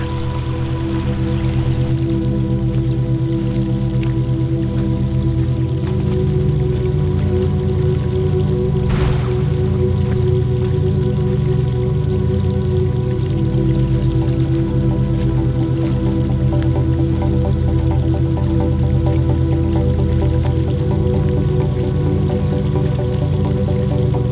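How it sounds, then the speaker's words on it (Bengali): A forest stream on a trail to the Risang waterfall in Khagrachari, where two streams join, gives a steady, close rushing of water over rocks, continuous and full throughout with no voices. "এদিকে দুইটা ঝিরি একত্রে হয়েছে"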